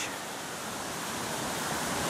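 Mercy Branch, a mountain tributary of Mill Creek, flows over a series of small waterfalls in a steady, broad rushing hiss of moving water, near and continuous without pause.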